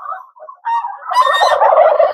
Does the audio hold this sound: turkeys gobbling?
yes